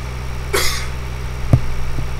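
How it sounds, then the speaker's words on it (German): A single short cough from a person, close and fairly loud, over a steady low hum of a farm-simulator tractor engine idling, followed by a faint throaty sound. "Oh, ich muss schon wieder husten."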